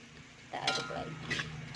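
Bean sprouts being stirred in a pan, seasoned with Royco and a little sugar, giving a few short scraping, clinking strokes of a utensil against the metal over a low sizzle.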